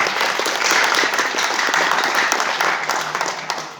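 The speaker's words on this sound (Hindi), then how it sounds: "एक जबरदस्त ताली होनी चाहिए" A large audience at a DXN event breaks into sustained, dense applause, steady and loud throughout, with no speech over it.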